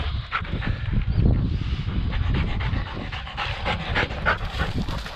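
A quail-hunting dog pants rapidly and close by in short, breathy bursts with a steady rhythm, sometimes with faint rustling underneath.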